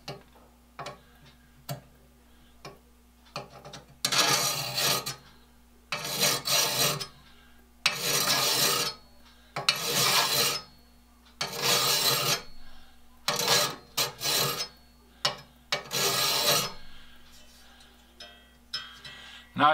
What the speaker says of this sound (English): it's right in the way and a little hard to do the filing